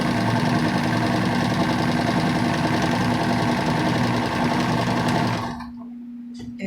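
A sewing machine stitches a quarter-inch seam down the front of a fabric face mask, running steadily and close for about five seconds with a dense rhythmic whir, then stopping abruptly into near silence.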